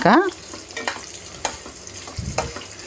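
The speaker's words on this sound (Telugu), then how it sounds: "కాకరకాయలు చూడండి ఎంతవరకు వేగినాయి చూద్దాం. ఇగో ఇట్లా బాగా ఇంకా ఫ్రై అవ్వాలండి." Sliced bitter gourd fries in oil in a pan while a spoon stirs it, giving soft sizzling under several sharp scraping strokes spaced through the passage, with no speech.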